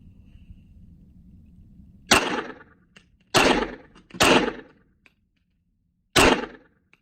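Four loud, sharp 9 mm pistol shots fired into a ballistic panel, using jacketed rounds and Speer Gold Dot ammunition, each a sudden bang with a short decay, irregularly spaced over a quiet background.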